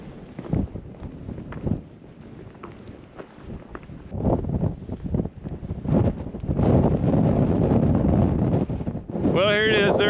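Desert wind blowing across the microphone on a hiking route into Coyote Gulch, a steady roaring rush that builds louder toward the end, with brief gusty thumps.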